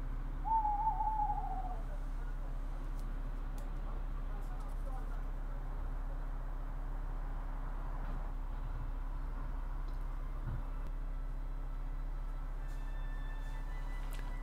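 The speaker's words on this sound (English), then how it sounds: "a tawny owl calls" A tawny owl hoots once near the start on a bright moonlit night at an allotment, a short quavering call standing out over a steady low hum of distant traffic.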